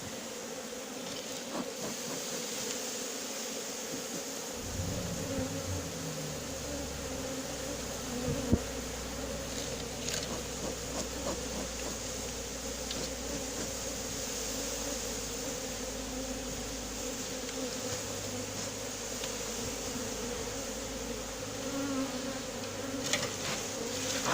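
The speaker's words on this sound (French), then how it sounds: "On les entend fort, elles bruissent fort là." Dense, steady buzzing of a honeybee swarm, loud and close, continuing without pause throughout with a low rumble underneath.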